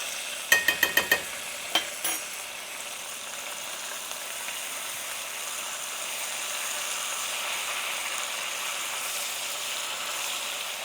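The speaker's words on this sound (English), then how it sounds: "So let that fry for maybe a half a minute to a minute, not too long." Garlic from a jar fries in a pan with a steady, soft sizzle, opened by a few sharp clinks of a utensil against the pan in the first two seconds.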